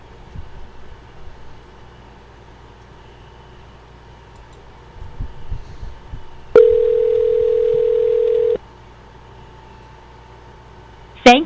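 A telephone line connecting while on hold to Pepsi Direct's sales department: a steady tone runs for about two seconds midway through, then faint hiss continues with a brief blip at the end.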